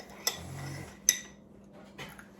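A spoon clinks three times against a cup of shaved ice snow cone, with a soft crunchy scraping between the first two clinks.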